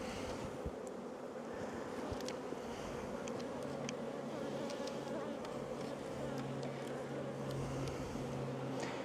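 Dense, steady buzzing of a honeybee swarm around open hives during a hot-day apiary inspection, close and continuous for the whole stretch with brief higher flicks of passing bees and no talk.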